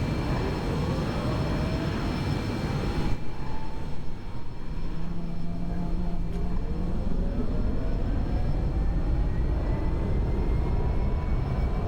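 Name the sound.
aircraft engine number one starting up in X-Plane 11 video game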